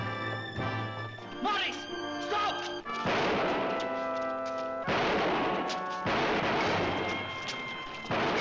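Gunfire and explosions crack through a 1968 film trailer, several sharp bursts scattered across the clip under dramatic music and dialogue.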